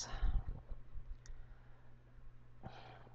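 Computer mouse clicking in a quiet room, a few soft, close, dry clicks early on and another near the end over faint background hum.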